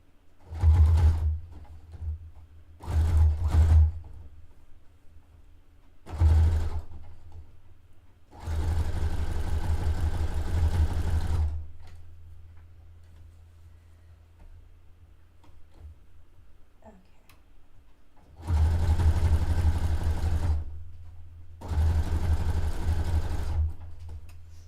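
Domestic sewing machine running a zigzag stitch on bed-sheet fabric for a vintage-style dress, several loud close bursts of fast stitching separated by pauses, the longer runs lasting a few seconds each.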